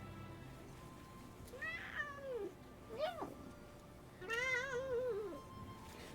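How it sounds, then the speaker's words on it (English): A pet cat gives three drawn-out, wavering meows while being stroked, each call rising and falling in pitch, close up and clear with a short pause between them. "You make funny noises when I pat you and you meow."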